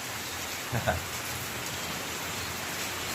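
Heavy rain pours steadily as a soft, even hiss throughout, with a brief low thump and a faint voice fragment near the start.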